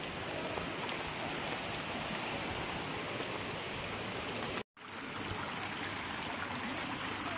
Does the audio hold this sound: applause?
no